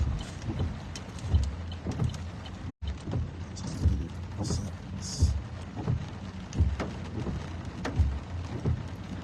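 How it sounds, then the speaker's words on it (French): Rain falling steadily in Brussels, a continuous wash of patter with some low rumbling thumps recurring underneath, fairly loud and close, with no clear talking. "il pleut à Bruxelles"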